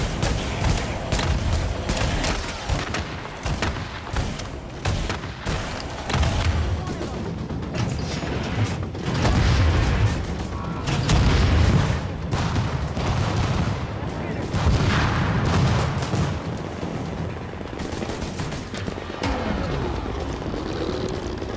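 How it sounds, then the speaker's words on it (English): Missile launches and explosions in the video game The Division, heard as a dense barrage of booming blasts, crashes and rapid gunfire rolling steadily with loud peaks, while voices shout over the action. "Missiles down! Yes, sir! Firing missiles!"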